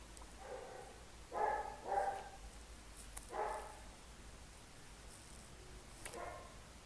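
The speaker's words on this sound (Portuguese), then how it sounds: "os cachorros não param de latir" Several distant dog barks come in small bursts with pauses between them, faint against a quiet room.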